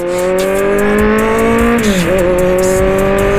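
A Kawasaki Z800 motorcycle converted to ZX8 styling rides along with a steady, loud engine drone whose pitch holds, dips briefly, then settles again, heard close with no talk.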